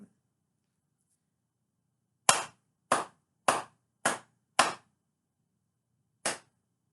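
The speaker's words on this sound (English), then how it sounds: "count each time that I clap" Crisp hand claps in a quiet room, five at a steady pace, then a short pause and a single final clap, all close and clear.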